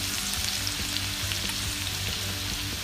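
Grated garlic frying in two spoons of hot oil, a dense, steady close-up sizzle and crackle with no voices.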